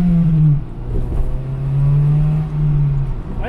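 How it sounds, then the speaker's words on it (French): A Honda Civic FD Type R race car goes by close and loud, its engine note droning steadily and rising and falling as it passes. "on a une voiture de course là. C'était une Civic."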